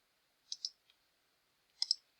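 Scissors cut out paper shapes for a Valentine gnome candy box craft: two quick pairs of crisp, quiet snips separated by a pause, with no other sound around them.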